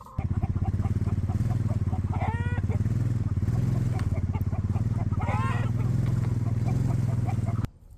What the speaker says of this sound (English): move the tractor, and see how well this works when we're moving the tractor